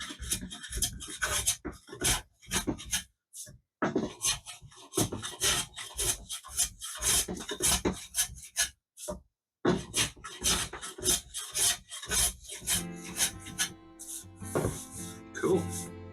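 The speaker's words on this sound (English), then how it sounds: "I think if I sharpen it again and keep using the Veritas Honing guide" A plane or chisel blade clamped in a Veritas honing guide is pushed back and forth over a sharpening stone, giving close, repeated rasping strokes with short pauses between them.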